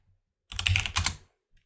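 Computer keyboard keys tap in a quick, close burst of several strokes lasting under a second, then stop, with no speech.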